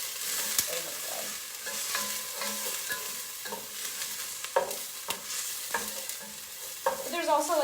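Onions fry in a pan for cheesy beef goulash, a soft sizzle broken by repeated scraping stirs and clacks of a utensil at an uneven rhythm, close up, with no talking.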